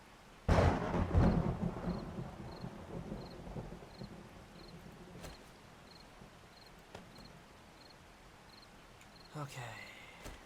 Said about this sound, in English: this is gonna be something with the rain